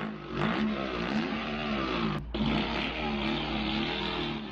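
A voice mimics a motorcycle starting up, sputtering and then revving into a steady buzzing engine drone, loud and close.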